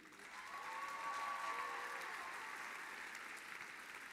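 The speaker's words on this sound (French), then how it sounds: "j'aimerais qu'on les applaudisse très fort" Applause for the musicians, a drummer and percussionist and a pianist, at a gala performance: faint, steady crowd clapping held at an even level, heard from a distance, with a soft sustained tone drifting over it.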